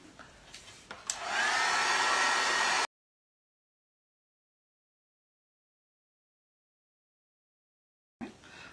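A dryer blows on wet paint on a bottle cap craft, a steady close whooshing roar starting after some handling clicks, then a long silence and the blower starting again at the very end.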